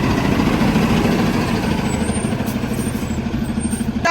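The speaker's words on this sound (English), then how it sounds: "get some air in my tire" An air pump runs loud and steady while inflating a car tire outdoors, giving a continuous rough mechanical drone with no pauses.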